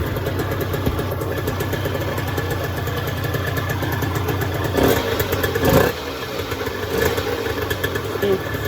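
A cold Aprilia RS50 50cc two-stroke motorcycle engine runs at a steady buzzing idle, close and loud, with a brief light rev near the middle before settling back; a voice is present underneath.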